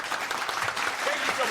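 Quick burst of applause during a livestream, a dense, even wash of many hands clapping at steady volume for about a second and a half.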